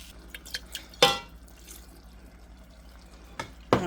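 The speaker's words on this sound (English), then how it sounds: "We're gonna stir everything together." Creamy alfredo sauce with chicken and broccoli is stirred in a pan, giving a few sharp wet scrapes and plops spaced apart over a quiet background, close up and without talk.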